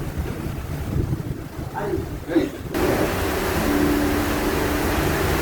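Passenger ship KM Nggapulu under way at night on open sea, with a steady low rumble and broad wind rush. Faint speech-like tones come early, and the wind noise swells louder and stays constant in the second half.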